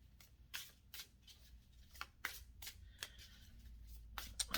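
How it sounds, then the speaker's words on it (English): Oracle cards shuffled in several quick riffling bursts, crisp and close, separated by short pauses, with no one speaking. "Got a nice sound to them as you shuffle them."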